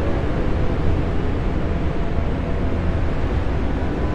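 Steady, loud roar of tornado wind in the video game Endless Suburbia, a dense broadband rush with no breaks or gusts, filling the whole stretch without any voices.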